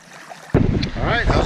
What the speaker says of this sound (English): don't know what you're going to hear in the wind here in the GoPro audio